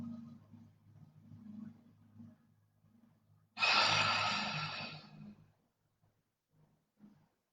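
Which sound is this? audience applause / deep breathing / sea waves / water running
deep breathing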